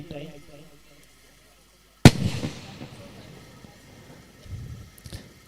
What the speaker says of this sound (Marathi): इथे जे फटाके फुटतात